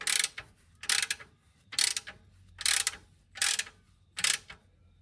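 A ratchet wrench with a hex socket tightens the sump plug on a Subaru Impreza, giving five close, crisp clicking bursts at a steady rhythm with short pauses between them.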